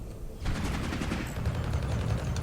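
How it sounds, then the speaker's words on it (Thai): Rapid bursts of weapon fire and a missile launch in the space combat game Fractured Space, a loud, dense crackling volley that starts abruptly and keeps pounding without a break. "ยิงเลยครับ ปล่อยมิสไซ"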